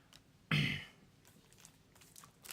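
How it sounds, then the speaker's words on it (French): A single short cough from a person with a sore throat, sharp and fairly close, followed by faint rustling and quiet handling noises. "Désolé si je tousse, j'ai mal à la gorge en ce moment"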